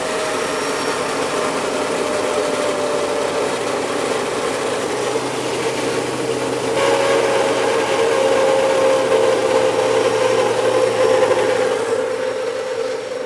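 A 750-watt off-grid micro hydro turbine drones with a steady mechanical hum and whine, and its tone shifts partway through as it is turned down, running on evenly without voices.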